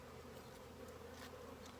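Honeybees buzzing around beehive nucs outdoors, a faint, steady hum with brief louder passes of individual bees close by.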